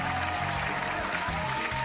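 Applause from a studio audience welcoming the start of a Star Trek Conquest podcast episode, a steady wash of clapping under faint low music or hum, lasting about two seconds.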